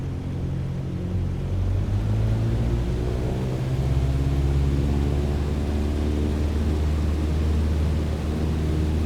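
Steady airplane engine drone from a Microsoft Flight Simulator aircraft taxiing toward runway 21, a continuous low rumble with tonal hum that swells slightly partway through and holds at a constant loud level, with no talking.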